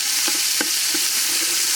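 Garlic paste sautéing with prawns and salt for a raw papaya curry, a loud constant sizzle with a few sharp spatula scrapes against the pan, close up and without speech.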